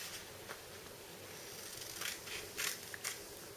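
Fabric is cut straight across with scissors, producing a few quiet snips and a soft slide of the blades over a faint background hum.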